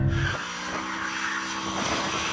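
A Mercedes AMG SLS Black Series warms its tyres at a drag race, a loud sustained engine roar with tyre noise that dips slightly and then holds steady, close and continuous with no voices.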